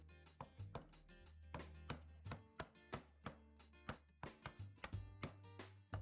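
A chisel is struck repeatedly to clear waste wood from a mortise, giving a series of sharp close taps and chops in an irregular rhythm, quiet overall and with no talk.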